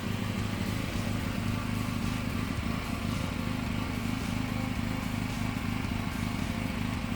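A steady engine running on LPG through a carburetor kit hums continuously at close range, an even mechanical drone with no voices.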